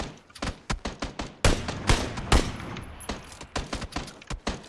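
PUBG Battlegrounds gunfire crackles in quick bursts of sharp, rapid shots, some near and loud, others farther off, spread across several seconds with brief gaps.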